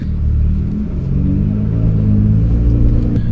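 A Nissan GT-R R35 engine revs in first gear, a loud, close, steady rumbling drone that rises slightly toward the end, with no talking.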